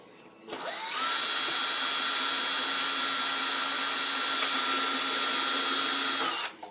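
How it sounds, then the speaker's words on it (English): A power drill runs at a high, steady whine for nearly six seconds without pause, drilling a hole in a kids' stormtrooper helmet, close and loud, before winding down. "And I'm going to drill the other hole."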